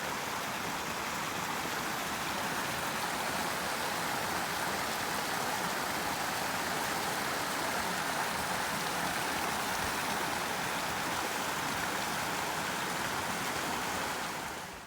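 A small creek flows along a trail to Mono Pass in Yosemite National Park on a frosty fall day, a steady, close, broadband rush of water that stays constant throughout with no voices.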